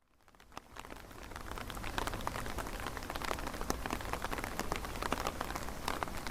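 Rain patters steadily on a surface, a dense even hiss of drops that swells in after a quiet start and then holds at a constant level, with no voices.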